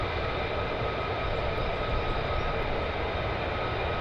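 A military jet taxiing at RAF Lakenheath gives off a steady, dense engine roar with a whining edge, loud and unbroken throughout.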